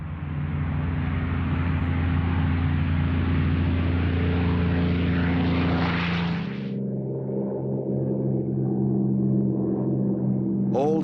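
Propeller drone of a Supermarine Spitfire fighter's engine, a steady, loud, low-pitched roar that drops to a deeper, smoother hum partway through.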